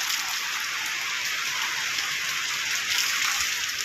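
Steady rain falls on a garden as a dense, even hiss of droplets without pause, close and fairly loud, with no voices over it.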